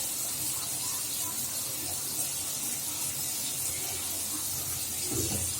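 Oil hisses and sizzles steadily in a pan as ash gourd fries, a dense, even spitting that runs close and loud throughout without a break.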